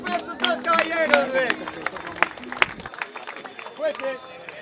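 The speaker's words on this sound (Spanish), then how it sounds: "¡Fuerte aplauso para estos tres caballeros!" An audience at a freestyle rap battle event in Monterrey claps and cheers for three contestants. The applause is mixed with a loud announcer's voice and crowd noise, and scattered sharp claps carry through the few seconds.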